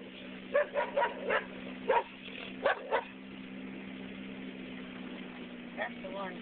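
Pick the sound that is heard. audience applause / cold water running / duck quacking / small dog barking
small dog barking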